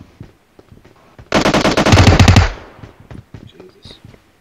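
Automatic gunfire in the PUBG Mobile game: a loud, dense burst of rapid shots lasting about a second, with sparse clicks before and after and a voice murmuring faintly in the background.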